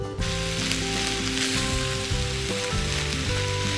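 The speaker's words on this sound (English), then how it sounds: "I'm going to put my stove back on and keep it at medium. And I'm going to add our cooked vegetables." Cooked vegetables sizzle loudly in a hot pan on a stovetop set to medium, a dense, continuous crackle that stays close and steady with no talking.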